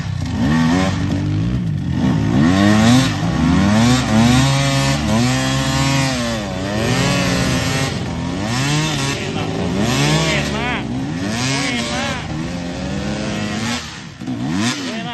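A motorcycle stuck in soft, loose soil on a cabbage-harvest field revs hard and repeatedly, the engine rising and falling in strained surges, loud and close, with voices talking over it at times.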